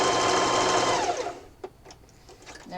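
A sewing machine stitches fabric for a Valentine pillow, a loud steady motorized whir that winds down and stops, followed by a few soft clicks and handling sounds.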